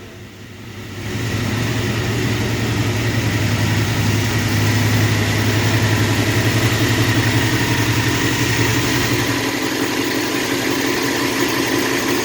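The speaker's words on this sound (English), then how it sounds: "It's idling." An old car engine with an untouched carburettor starts up and settles into a steady, rumbling idle that continues evenly for several seconds, close by with no talking.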